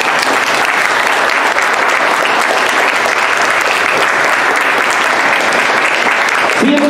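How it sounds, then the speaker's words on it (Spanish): Audience applause at a literature event on the Amazon, a dense, steady wash of many hands clapping that holds loud and even throughout without fading. "le voy a pedir que le den un aplauso femenino, clasista, combativo, a Marina Díaz"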